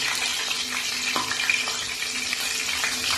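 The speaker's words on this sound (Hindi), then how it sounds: "सफेद जीरा थोड़ा सा तड़के के लिए। और ये जो थोड़ा मैं फ्राई कर लूंगी" Cumin seeds frying in hot oil in a pan for a tadka for chana dal, a steady close hiss of sizzling that runs evenly throughout with one brief crackle in the middle.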